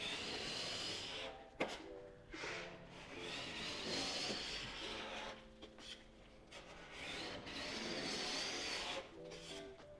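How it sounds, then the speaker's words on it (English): A metal putty knife scrapes the factory finish off an old table, giving repeated rasping strokes of moderate loudness with short pauses between passes. No one talks. "a metal putty knife to hopefully scrape off the majority of the factory finish on here"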